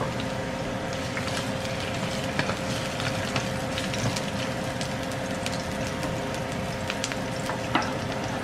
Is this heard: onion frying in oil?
yes